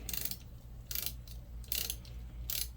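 Ratchet wrench tightening the muffler bolts on a Stihl MS 180c chainsaw, four bursts of rapid clicking spaced about a second apart over a steady low hum, close by.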